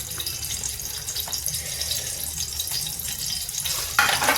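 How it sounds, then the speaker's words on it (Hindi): Oil in a pan heats up before onions, chili and garlic go in for a vegetable dish, giving a continuous soft sizzling hiss with faint clinks and a brighter burst near the end. "थोड़ा तेल गर्म हो रहा है।"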